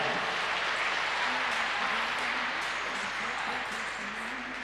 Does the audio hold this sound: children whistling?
no